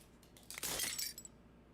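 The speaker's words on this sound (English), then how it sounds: "As the final fragment of glass shatters" Glass shatters in the video game Slay the Princess: one bright, crashing burst with tinkling fragments that quickly fade into quiet.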